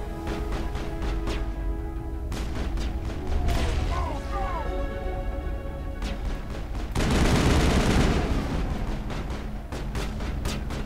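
Repeated gunshots and heavy weapon fire in a Mass Effect combat scene hit in a steady rhythm over a constant roar, with a louder blast rumbling in the middle and speech between the shots.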